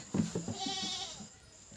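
A goat gives a single wavering bleat close by, a short nasal cry that trails off.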